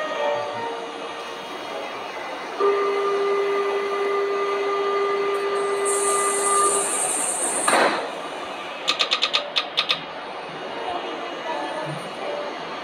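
Train wagons rolling in a Roblox video game, a steady mechanical rumble with a sustained tonal whine and a burst of rapid clicking near the end.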